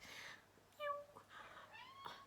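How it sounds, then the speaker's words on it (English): A pet cat meows for treats, two or three drawn-out, rising calls with short gaps between them, fairly faint over a quiet indoor background. "That's my cat."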